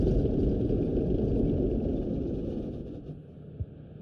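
A tank engine idles in the Squad military video game, a low, continuous rumble that fades out as the engine shuts down, ending with a single soft knock.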